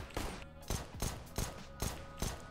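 Gunfire in the video game Counter-Strike (CSGO) Battle Royale mode: five evenly spaced, punchy shots about half a second apart, quiet in the mix with no talk.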